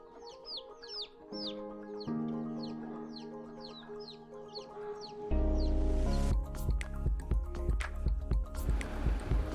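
Fayoumi and native chickens cluck and a rooster calls repeatedly over a busy poultry farm, with high bird chirps early on and clattering, dripping noises building later.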